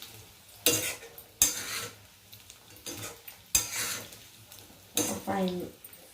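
Chicken for fried rice stirred in a pan over high flame, with a handful of sharp scraping and clanking strokes of a utensil against the pan over a low sizzle, spaced about a second apart.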